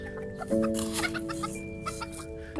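Several small bantam chickens cluck and chirp close by in quick, overlapping calls, with a steady faint tone running underneath.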